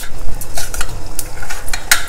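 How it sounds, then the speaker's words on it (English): Rice grains pour and stir into boiling water with a soft sizzling, bubbling hiss, punctuated by a few light scraping clicks of a utensil. "So very gently drop the rice."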